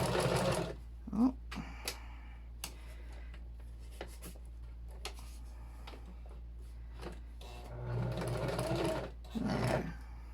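A sewing machine run with a foot pedal stitches over thick denim seams in short, quiet bursts of whirring, with soft clicks and handling noises between the runs and louder stitching near the end.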